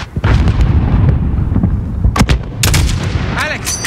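Enemy gunfire in Call of Duty Modern Warfare: loud, dense bursts of shots and booming impacts through the whole span, with sharp cracks clustering in the second half over a rumbling battlefield.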